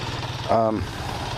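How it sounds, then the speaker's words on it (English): A 1980 Kawasaki LTD440 motorcycle engine idling after carburetor cleaning, a low steady putter with a brief louder revving swell midway, heard close up. "It seems to be idling okay."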